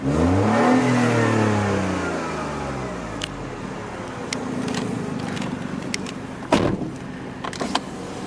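A 2014 Mini Cooper's engine revs up in sport mode, rising sharply and then falling back as it settles into a steady idle, close and loud, with a few clicks and knocks near the end.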